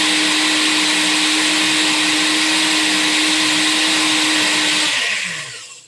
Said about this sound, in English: Blend one more time.